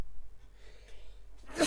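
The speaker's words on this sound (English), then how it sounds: "Haven't sneezed on stream in a while." A single sharp sneeze bursts out at the very end after a brief quiet breath, close and loud against a near-silent room.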